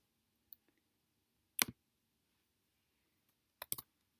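A computer mouse clicks a few times in a quiet room while someone copies a chart in a spreadsheet. The clicks are sharp and sparse, one near the start and small pairs and clusters later, with no voices.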